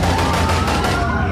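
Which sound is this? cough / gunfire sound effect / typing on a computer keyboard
gunfire sound effect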